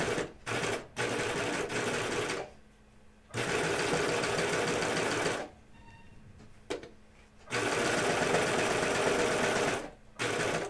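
A sewing machine stitches thick pocket trim on a pair of Hudson pants, running in several loud sustained bursts with short pauses between them.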